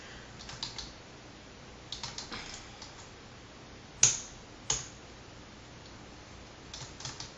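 Keys tapped in short bursts on a computer keyboard while writing software test code, with a few louder isolated key strikes between quieter clusters of typing, close and alone without talk.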